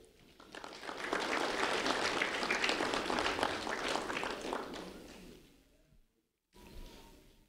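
A short round of applause at a school recognition event honoring a second-grade student, rising quickly, holding for a few seconds, then fading out before a brief pause and a soft return.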